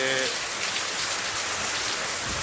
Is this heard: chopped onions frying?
no